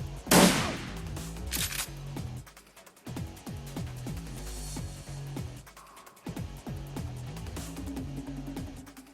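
Bursts of rapid gunfire ring out in a pixel-art video game, repeated volleys of sharp shots in quick rhythmic runs, with brief gaps and a background game soundtrack.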